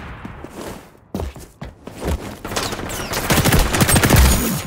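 A P90 submachine gun fires in the shooter game XDefiant, fast continuous bursts building loud and close after a quieter stretch of footsteps and thumps.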